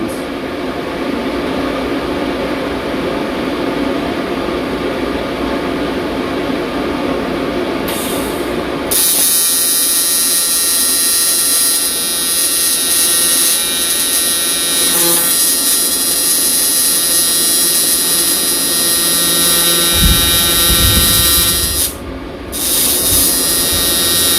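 An Everlast welder welding a bung onto an oil fill cap, with a loud continuous crackling, buzzing hiss that changes tone partway through and holds steady, close up with no talk.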